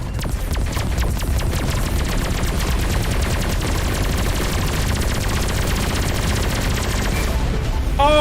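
Space-combat explosions in the game Everspace 2 near a corvette, a dense continuous barrage of booming blasts and rapid gunfire-like crackle, loud and unbroken throughout with no speech.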